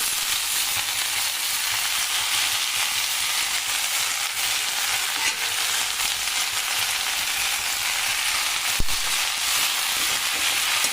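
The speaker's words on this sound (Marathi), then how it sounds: "आता आपण चिरलेली आपली जी भाजी आहे करडईची ती टाकून घेऊया" Chopped safflower greens fry in oil with browned onion, a steady loud sizzle and crackle filling the pan, with one sharp clack near the end.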